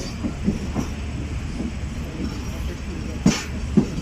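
A train rolls past near Bholari railway station, a steady rumble with faint rhythmic clatter of wheels on track and a few sharper knocks toward the end, heard from close by without talk.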